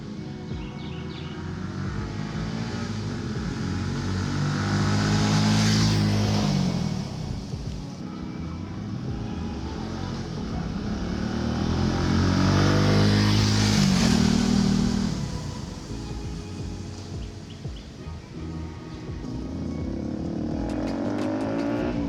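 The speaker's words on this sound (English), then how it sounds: "I'm gonna be doing a before and after sound check of the stock muffler and the, I guess it's aftermarket pipe technically." Benelli TNT 135 motorcycle with an aftermarket header exhaust, its engine idling then revved twice in long swelling pulls that rise to a loud raspy peak and fall back, close by.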